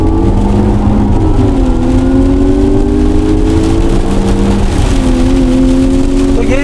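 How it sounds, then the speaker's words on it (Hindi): Changan Oshan X5 2022 SUV in race mode accelerating hard, engine note climbing steadily through gear changes with brief dips between shifts, loud and continuous from inside the car. "ये आपने साउंड इसकी जो एक सुनी है ना एक्सेलरेशन की"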